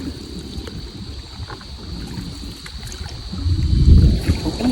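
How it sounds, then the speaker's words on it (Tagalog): Water sloshes and splashes around a small rowboat as a paddle strokes, with wind noise on the microphone and a stronger splash near the end. "sinubukan ko na rin magsagwa ng bangka"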